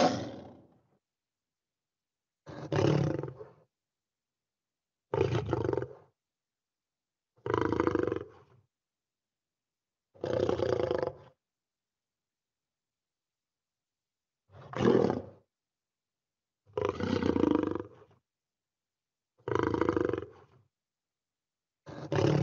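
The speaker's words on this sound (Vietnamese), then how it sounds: "Tiếng con gì gầm đây cả lớp? Con gì nhỉ? Lion." A lion roars in a series of about nine separate bursts, each lasting around a second and spaced a few seconds apart with silence in between, loud and close.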